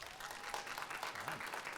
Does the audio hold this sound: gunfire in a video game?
no